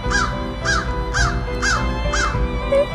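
A crow caws outdoors in cold weather, five or six harsh evenly spaced calls ringing out close by over a low steady background hum.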